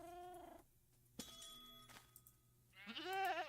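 Goat call in StoneBlock 4, a loud bleating cry heard alone, then a clatter and a tonal chime, with another wavering bleat at the end.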